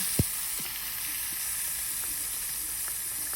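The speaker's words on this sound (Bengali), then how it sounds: "কড়াইটা গরম হয়ে গেলে সর্ষের তেল দিয়ে দিলাম এখন আমি মাছগুলোকে কড়াইতে দিয়ে দিলাম" Small fish frying in hot mustard oil in a wok, a continuous close sizzle and hiss with a few sharp spatters and pops scattered across it.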